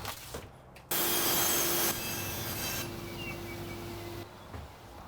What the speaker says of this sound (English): I'm going to quickly cut the frame down to match this.